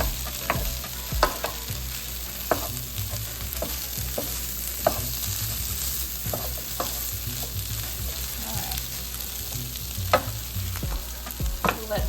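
Potatoes and chorizo frying in a pan, a steady loud sizzle broken by frequent sharp scrapes and clicks of a utensil stirring, with no voices.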